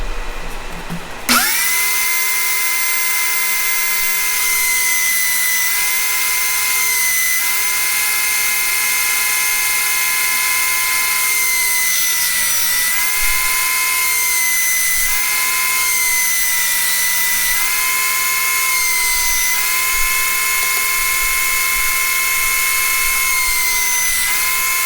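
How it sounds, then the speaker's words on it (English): A power sander smooths wood for a kitchen knife organizer, starting abruptly after a moment of quiet and then running loud and close with a steady high-pitched whine that dips and recovers slightly as pressure changes. "So let's go over here to the sander"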